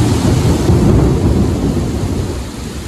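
Steady heavy rain with rolling thunder in a Kerala hometown setting, a dense continuous wash with deep low rumbles, loud and close, no voices.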